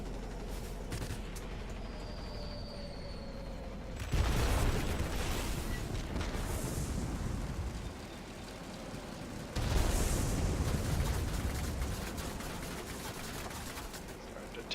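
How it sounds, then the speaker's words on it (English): Bombs from a Soviet Ilyushin IL-40P attack aircraft exploding in World of Warplanes, two deep booming blasts several seconds apart over a constant engine drone, moderately loud and without speech. "Let's see if we can drop a bomb here."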